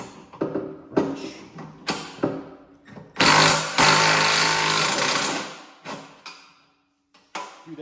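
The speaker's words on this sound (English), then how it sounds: "we tighten them up with a 19mm socket" Ratcheting and clanking as 3/4 inch bolts are tightened with a 19mm socket and wrench during assembly of a Polaris Glacier plow frame, a series of short metallic bursts followed by a longer loud grinding stretch, close by.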